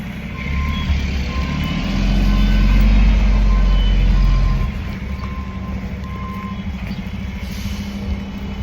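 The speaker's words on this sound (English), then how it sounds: "Notice this freaking cement mixer truck right in our way." A cement mixer truck reverses nearby with a steady series of evenly spaced warning beeps over a deep rumbling diesel engine that swells louder for a few seconds, then settles.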